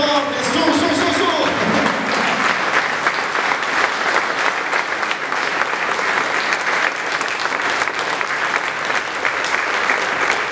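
A crowd gives loud, sustained applause throughout at a political campaign program presentation in Barcellona, the dense clapping steady and close.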